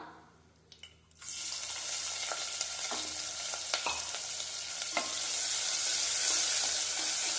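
A large onion sliced lengthwise hits hot oil in a pan with a sudden sizzle that settles into a steady, crackling fry, with occasional stirring taps against the pan.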